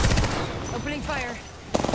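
Machine gun fire in the Apex Legends video game, a dense burst of rapid shots at the start and again near the end, with a short stretch of game voice and tonal sounds in between.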